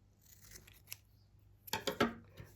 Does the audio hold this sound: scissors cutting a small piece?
yes